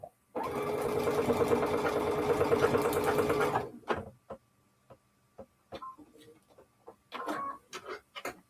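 A sewing machine stitches a paper-pieced quilt block in one steady, loud run of rapid needle clatter lasting a few seconds, then stops, leaving scattered small clicks and handling noises.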